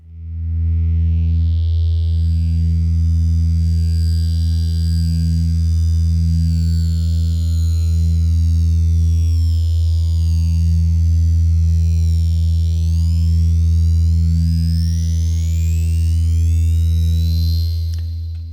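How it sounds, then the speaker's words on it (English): Synthesized sci-fi tone built in Massive: a sustained, mellow low drone with a bright M-plex wavetable layer sweeping up and down above it, loud and continuous, with no voices. "Just having this high tone sweep through on top of our mellow tone."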